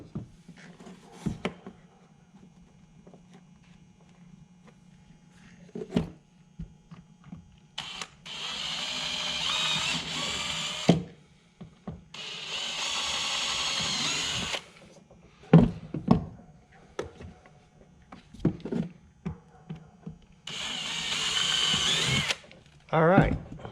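A power drill drives three mounting screws during an Active Target install, whirring in several separate bursts between bits of talk, clicks and handling noises.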